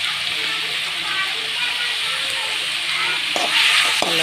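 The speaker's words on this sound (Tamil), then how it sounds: "தக்காளி வதங்கட்டும்" Tomatoes sauté in a pan with salt and turmeric, giving a steady broad sizzle and hiss throughout, with a couple of brief stirring knocks near the end.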